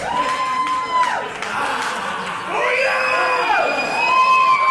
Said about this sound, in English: Getting that crowd worked up and in a frenzy.